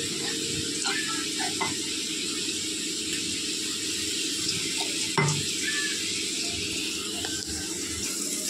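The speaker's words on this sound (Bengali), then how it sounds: "পেঁয়াজ ভাজা হয়ে গেছে, আমি রসুন পেস্টটা দিয়ে দেবো" Garlic paste frying with onions in a pan, a steady bright sizzle and hiss running throughout, with occasional light clicks and scrapes of stirring on the pan.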